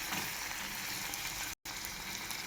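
Pumpkin stems fry with turmeric in a pan, giving a continuous quiet sizzle and crackle with a brief dropout partway through, no voices.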